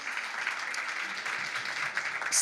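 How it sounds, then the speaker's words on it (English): Applause from the audience at a book launch in a bookshop, a steady, even patter of many hands clapping that holds for a couple of seconds at moderate loudness, with no talking over it. "So can we please give them a round of applause as they take their seats?"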